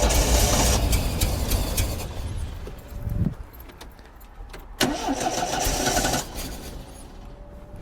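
A Triumph TR7 engine cranks over and over, trying to start with the choke and accelerator: two bursts of close, rhythmic starter whirring separated by a pause, with no voices.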